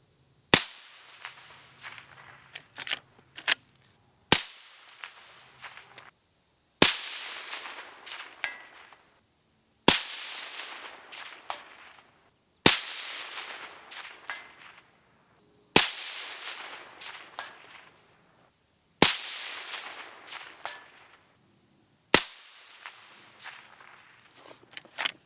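Suppressed 5.56 shots from a Henry Long Ranger Express rifle crack out one at a time, about nine sharp reports spaced a few seconds apart, each with a short fading tail and faint handling noise between.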